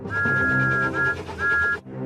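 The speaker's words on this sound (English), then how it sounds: "Then Emily heard Thomas's whistle." A loud, high steam locomotive whistle blows in long sustained toots, cutting out briefly twice before a final blast, over a rumbling background.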